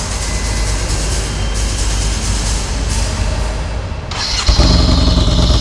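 Yamaha Bolt motorcycle fitted with Hagon shocks cruising along, a loud steady engine drone with broadband wind rush throughout and a brief dip before the roar swells again near the end.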